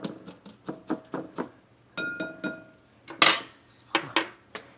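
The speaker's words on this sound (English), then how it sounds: "And I'm just going to blend that until it's completely blended." A whisk beats rib rub spice mix in a bowl, giving quick rhythmic clinks and scrapes in short bursts with brief pauses, close and fairly quiet.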